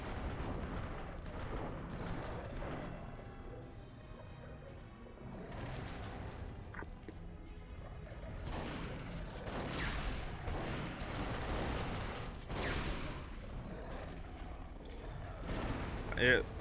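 Pipe bomb explosions in the video game Duke Nukem Forever, heard as loud, sustained blasts and crashing debris over a continuous roar of game noise.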